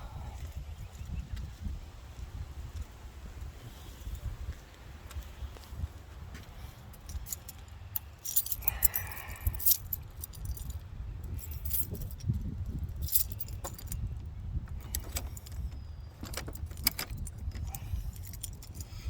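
Keys jangle in several bursts while a garage door on a farm is being unlocked, set against steady outdoor background noise with a passing vehicle.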